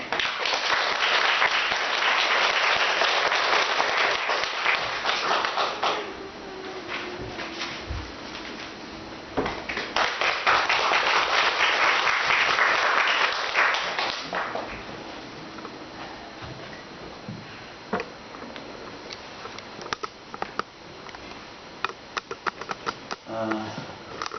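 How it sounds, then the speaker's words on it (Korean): A church congregation in Samcheok, South Korea claps steadily for about fifteen seconds welcoming a visiting minister, loud and sustained, then the applause fades into a quieter room with scattered clicks and knocks. "큰 박수로 환영을 하시겠습니다"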